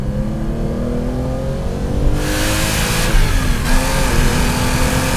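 A Porsche 911 Carrera 2.7 RS powers out of a corner, its engine note climbing loud and close through the revs, then surging harder after a brief shift, with no talk.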